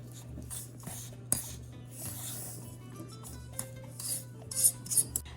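Crushed Oreo cookie crumbs being stirred together with melted butter in a bowl, soft close scraping and gritty rubbing with a few light utensil clinks against the bowl, no talking.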